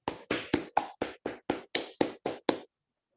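An audience at a speech-evaluation workshop claps for a volunteer test speaker: about eleven crisp, evenly spaced claps struck in unison over nearly three seconds, then sudden silence.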